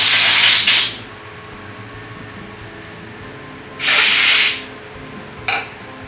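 Compressed air blowing excess grease off a Royal Enfield motorcycle brake caliper, three sharp hissing blasts: a short one at the start, a longer one in the middle, and a brief puff near the end, with quiet between.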